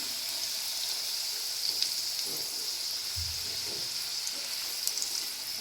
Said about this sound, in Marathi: तळ फ्राय करून घेऊयात गॅस मिडियमच ठेवायचा